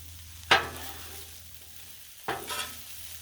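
Beef stir fry hits a hot Blackstone griddle with two sharp, close sizzling bursts, one early and one later, each fading into a soft crackle over a quiet background.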